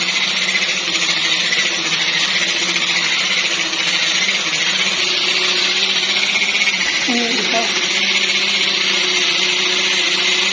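An electric blender runs loudly and steadily, whirring through a custard ice cream mixture with a constant high motor whine, and a voice talks over it.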